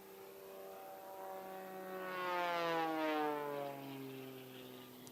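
Offshore racing powerboat engines, 65 mph class, drone past in the distance, their whine rising and then falling as they approach and pass by.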